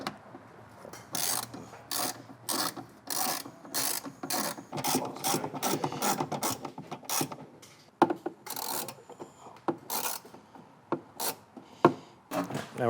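Screws being driven in to hold down the intake airbox on a Silverado with a 5.3 engine, heard as a close run of rapid ratcheting clicks in repeated bursts with short pauses between turns.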